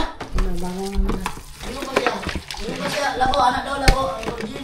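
Sizzling and stirring in a hot pan, with scraping clatter and a sharp clink, while people talk over it nearby.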